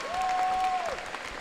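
An audience at a robotics competition's alliance selection applauds in a continuous burst of clapping, with a sustained whistle-like tone running over part of it.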